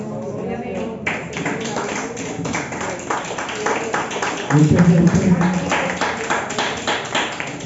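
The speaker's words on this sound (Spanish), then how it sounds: "gloria a Dios por ese aplauso que hay para él" Congregation applauding in church during a Spanish-language sermon, a steady patter of many hands under a preacher's ongoing speech, swelling briefly louder midway.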